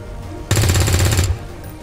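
Rapid burst of automatic gunfire from the tactical strategy video game XCOM 2, loud and close, running for under a second before cutting off, with no talk over it.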